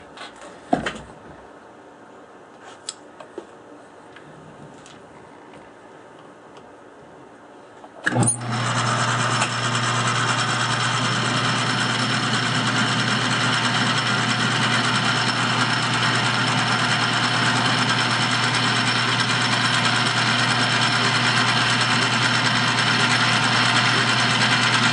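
A lathe motor spins up during tool grinding: after several seconds of near quiet with a few faint knocks, a loud, steady hum with a high whine kicks in abruptly and runs on without let-up.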